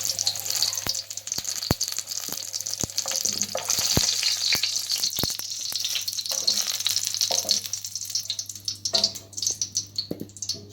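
Onions and green chillies sizzle in hot oil in a karahi, a continuous crackling fry with sharp taps of a utensil against the pan and some watery stirring.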